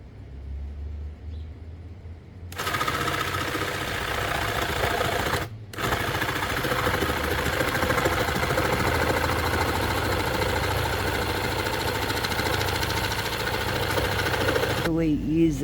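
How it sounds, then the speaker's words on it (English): A jigsaw cuts a curved shape in wood, starting after a brief quiet lead-in and running as a loud, steady buzzing rasp with one short pause midway. "Using a jigsaw to cut wood in a shape"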